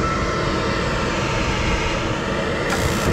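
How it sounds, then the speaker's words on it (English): A furnace inducer motor runs ahead of burner ignition, giving a loud, steady broadband whir that holds evenly throughout. "inducer motor started"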